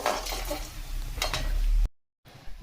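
Edible gum (gond) roasting in hot ghee in a pan for atta pinni, a close, dense sizzle with stirring and a few utensil scrapes, cut off abruptly near the end.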